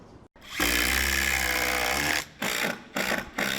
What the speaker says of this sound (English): Workers drill and hammer across this stadium. The noise fills almost every corner.